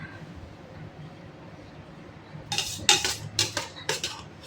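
Cutlery and dishes clink during a home meal in a Bengali household. After a quiet stretch, several sharp, close clinks and scrapes arrive in quick succession.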